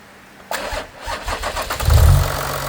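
A Porsche Cayenne 92A diesel engine cranks and catches with a sharp burst, stutters briefly, then settles into a steady low idle, close and fairly loud.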